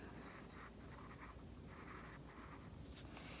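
A pen scratches on paper while drawing squid tentacles, soft rhythmic strokes in short bursts, faint and close in a quiet room.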